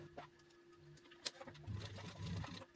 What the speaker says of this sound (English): we will sew together the back seam